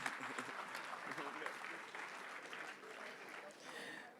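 A crowd applauding steadily, a dense patter of clapping that holds for several seconds, moderately distant.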